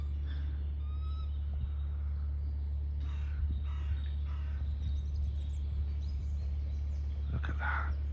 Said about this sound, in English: Wild raven.